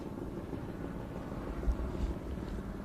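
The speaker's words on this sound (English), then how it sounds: "Helicopters flying above us at the end of the stage." Helicopters flying overhead at the end of a rally stage in the Azores, a low, distant rumble of rotors that swells slightly toward the middle and stays faint against the open-air background.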